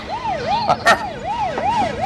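A police car siren wails close by in a fast, repeating rise-and-fall sweep, loud and steady, with brief sharper bursts of noise partway through.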